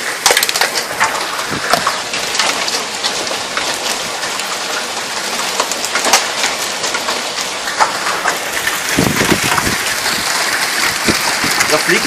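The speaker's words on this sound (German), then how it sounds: "Da fliegen gerade ein paar Hagelkörner rein." Hailstones fall during a summer hailstorm in Leipzig, a dense, loud clatter of many sharp impacts rattling continuously nearby.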